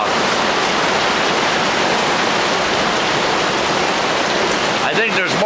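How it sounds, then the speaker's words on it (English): Heavy rain pours down during a thunderstorm at Black Lake: a dense, loud, continuous hiss fills the whole clip, close and unbroken, with a brief louder rumble or disturbance near the end. "Thunder all around me. And pouring cats and dogs."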